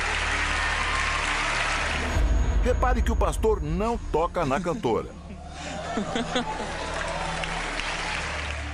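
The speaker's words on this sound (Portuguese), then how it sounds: "O público aplaude." An audience at an evangelical church service applauds in a broad wash of clapping. Someone speaks over it, and the applause continues more faintly beneath his voice.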